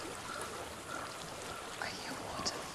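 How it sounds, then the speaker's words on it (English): Flowing water in the video game Hellblade: Senua's Sacrifice, a continuous soft rushing stream with scattered droplet splashes, heard at moderate distance under a faint murmur. "I hear water."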